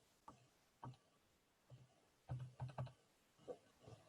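Keys pressed on a graphing calculator keypad during a math lecture on apportionment, a series of soft, close taps in uneven bursts, several quick presses clustered together with short pauses between.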